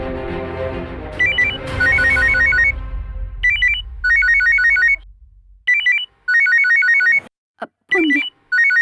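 A phone ringtone chimes in repeated bursts of a bright electronic melody, loud and close, with short pauses between rings before it cuts off amid brief rustles.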